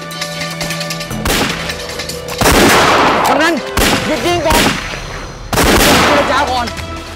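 Gunshots ring out in a Thai TV drama scene: several loud, sharp bursts of gunfire with crashing echoes, separated by brief gaps, over a tense background score.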